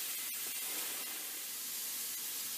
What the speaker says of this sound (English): then you can hear that sizzle on the bread